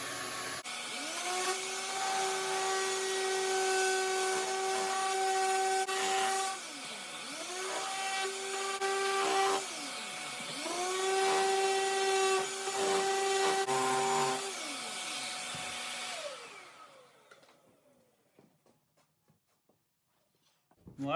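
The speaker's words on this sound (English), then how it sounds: "I find it easier to round those off with a sander" A random orbit sander whines steadily while sanding wood, pausing and restarting a few times before winding down into near silence.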